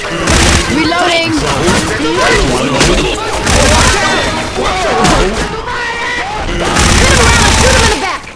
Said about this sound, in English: Shoot him in the back.